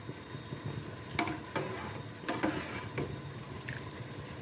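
Soaked rice is stirred in a pot for chicken biryani, with soft scraping and sloshing, several sharp clacks of a spoon on the metal, and a faint sizzle underneath, quiet and close.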